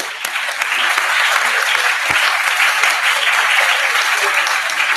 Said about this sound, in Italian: Applauso liberatorio.